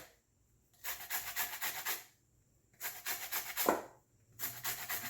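A lemon is zested for a gluten-free almond tart, with three long stretches of rapid, close rasping scrapes separated by short pauses.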